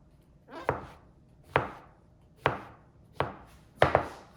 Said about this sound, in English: So if we kind of cut it down the middle, we have 2 nice flat surfaces